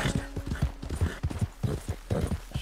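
Rhythmic horse hooves clip-clop at a steady trotting pace, close and fairly loud, with a faint tonal game sound near the start, from the video game Red Dead Redemption 2.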